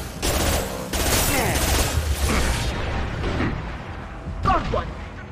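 Shotgun fire in Mass Effect 2 combat, several loud broadband blasts with mechanical clatter and ringing game effects over about five seconds, mixed with busy battle noise.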